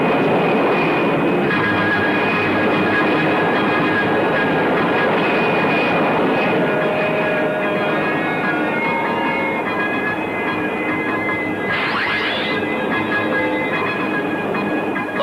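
Sci-fi spacecraft Super Mazinga lifting off in an animated film, a loud continuous engine roar with steady whining tones and a rising sweep near the end, filling the whole stretch without speech.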